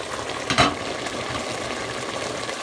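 Homemade sausage pieces with their rendered fat drop into a bubbling pot of bigos with pork ribs, giving a brief loud sizzle burst near the start before a steady close frying hiss carries on alone.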